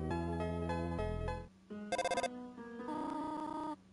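A cell phone ringtone plays in the video game Undertale, a loud electronic melody of bright tonal notes with a short burst of rapid pulsing beeps in the middle, heard alone with no talk.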